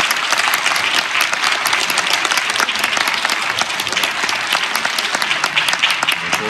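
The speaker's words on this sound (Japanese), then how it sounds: "フォークギター演奏編の皆さんにもう一度大きな拍手をお願いいたします。" Audience applause for folk guitar performers at a Christmas concert, a steady dense clapping held at even loudness throughout with no voices over it.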